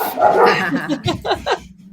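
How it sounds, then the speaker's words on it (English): Several dogs barking from a house during a conversation, a quick burst of close, loud barks and yips over about two seconds. "this Amy's got 4 dogs who never fails to join the conversation whenever I get on a video chat."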